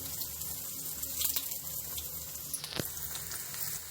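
Bread pieces roast in oil in a kadai for a milk-and-bread dessert, giving a steady, close, crackling sizzle that carries on evenly without talk.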